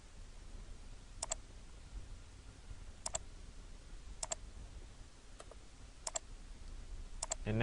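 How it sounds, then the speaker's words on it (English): Computer mouse being right-clicked while drafting in AutoCAD, six faint, sharp click pairs spaced about a second apart over quiet room hiss. "And to repeat, I'm just right-clicking."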